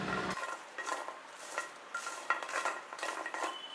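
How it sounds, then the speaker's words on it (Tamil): Chickpeas fry crisp in hot oil, with a sizzling hiss under repeated scraping and stirring strokes of a metal spoon against the pan. "இந்த அளவுக்கு நம்ம வந்து நல்லா கிறிஸ்பியாக கடலையை நம்ம பொரித்து எடுத்துக்கணும்"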